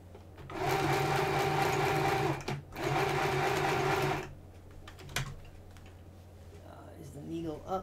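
A sewing machine stitches in two steady bursts, near and loud, the first lasting about two seconds and the second slightly shorter, separated by a brief pause, with quieter handling noises and faint sounds afterward.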